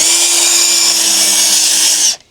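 A power drill fitted with a stainless steel bit whines loudly and steadily at close range, then cuts off abruptly near the end, with no one talking.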